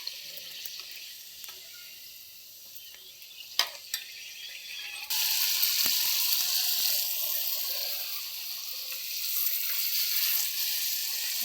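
Puri dropped into hot oil sets off a steady hissing sizzle that swells suddenly partway through and then holds, with a few light clicks before it, and no one talking.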